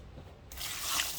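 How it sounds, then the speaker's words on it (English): Water pours into a pot of corn cobs in a steady rushing stream that grows louder partway through, close and brief with no talking. "So we're going to add our 8 cups of water."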